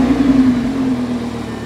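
A 2013 Lamborghini Gallardo's rear-mounted engine drones steadily and close, a sustained loud hum with no clear start burst or rev swell across a short stretch.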